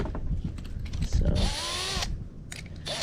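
A power drill with a 3/8-inch bit whines through foam on an ice chest being prepared for mounting, a short burst of rising motor drone after some clicking and handling, with a person talking briefly nearby.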